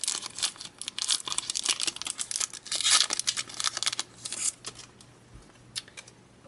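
A Japanese Plasma Gale Pokemon booster pack is torn and crinkled open by hand, with bursts of ripping foil wrapper and rustling from start to finish, close and fairly loud, no talking.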